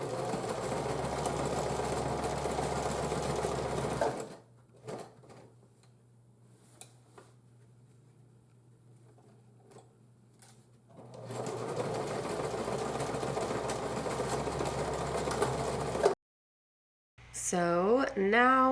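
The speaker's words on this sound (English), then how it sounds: "then you just go ahead and sew these two together along that super long seam" A sewing machine runs a long seam on a dress made from a thrifted tablecloth, whirring steadily and close for several seconds, stopping during a quieter stretch, then running again for a long stretch. Speech follows near the end.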